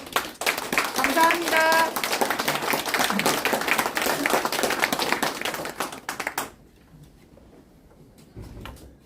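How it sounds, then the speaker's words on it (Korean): An audience at a lecture on low birth rates gives a former minister a welcoming round of clapping, moderately loud and steady for about six seconds before stopping abruptly, followed by a brief spoken thanks in the quiet room. "김희정 장관님을 따뜻한 환영의 박수로 맞아주시기 부탁드립니다"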